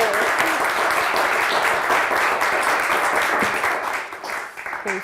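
Dense applause from a studio audience on a Turkish word game show, steady loud clapping that thins out toward the end.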